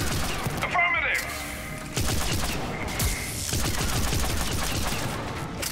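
Rapid crackling bursts of arc pistol fire in Mass Effect 3 Legendary Edition combat, repeated quick shots over a few seconds with thumps and a voice briefly heard.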